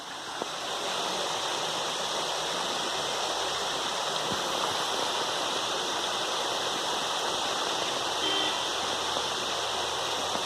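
Water pours steadily from a lion statue's mouth into a fountain basin at a hill station, a constant splashing rush close by with no talking.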